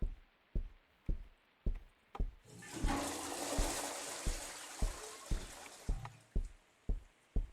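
A toilet flushing in a video game, a sustained rushing gush of water lasting a few seconds, set among a steady run of regular thudding footstep-like knocks before and after.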